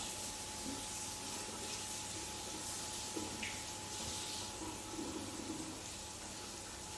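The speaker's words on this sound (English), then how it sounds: "Just going to give the knife a wash." Tap water runs steadily over a knife in a kitchen sink, a continuous close splashing hiss with small shifts as the blade moves through the stream.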